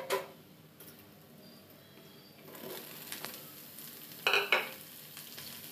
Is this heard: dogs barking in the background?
no